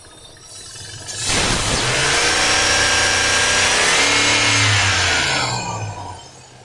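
A car engine revved by hand at the throttle, rising sharply from idle to a loud sustained high-RPM roar for about four seconds before easing back down, no talking.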